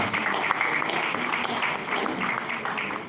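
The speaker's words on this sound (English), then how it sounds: "Please a round of applause for the discussion" Audience applause after a panel discussion at a Nigerian Institute of Town Planners Oyo State chapter event: a continuous, moderately loud wash of many hands clapping at once, heard alone and fading slightly at the end.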